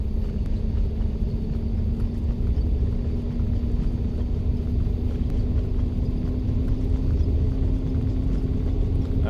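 An MD-80 airliner on its takeoff roll in a flight simulator video game, with steady loud engine rumble and a constant tonal hum that holds evenly throughout and has no talk over it.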